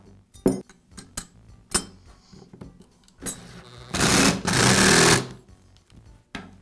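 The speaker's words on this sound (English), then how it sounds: "Now reinstall the dust deflector and the belt guard." The dust deflector and belt guard are refitted onto a Makita belt sander: sharp plastic clicks and knocks lead up to a loud, sustained rattling whir, then a final clack.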